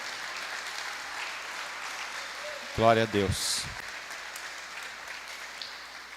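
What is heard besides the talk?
church congregation applauding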